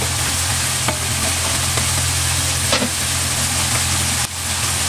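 Garlic sizzles and fries steadily in a pan alongside golden-browned pork, a continuous loud frying hiss with a few brief clinks of stirring.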